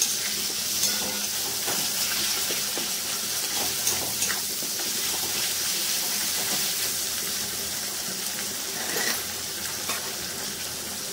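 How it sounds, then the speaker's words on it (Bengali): Spices with tomato and chili powder frying in a pan, a continuous bright sizzle with occasional stirring clicks, steady and fairly close, with no voices. "একটু ভালো করে কষিয়ে নেবো।"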